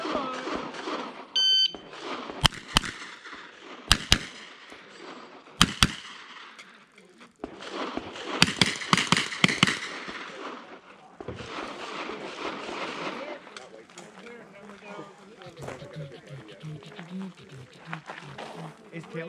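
Pistol caliber carbine fired at an IPSC provincial match, a shot timer beep followed by rapid bursts of sharp, loud shots in quick strings with pauses between, voices talking between strings.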